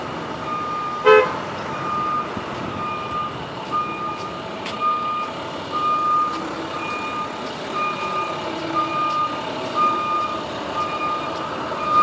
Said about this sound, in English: looks like the bus is coming around the corner